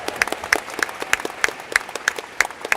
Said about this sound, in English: We want to give wonderful applause for Wahine and Kane one more time,